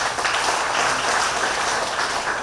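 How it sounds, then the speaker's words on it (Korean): Brief burst of audience applause at a Korean inauguration ceremony, dense steady clapping from a seated crowd with no clear voices. "박수 한번 칩시다 우리가"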